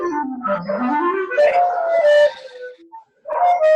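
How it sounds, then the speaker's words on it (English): Dogs howl, whimper and yip with rising and falling drawn-out cries, loud and close, in a long run broken by a brief pause before the howling resumes, with no talk over it. "There's like dogs barking and everything."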